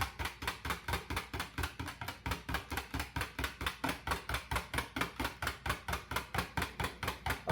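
A whisk beats salt into crème brûlée custard in a bowl, a fast, steady run of sharp, evenly spaced clicks and taps that carries on without a break, close and fairly loud, with no voice.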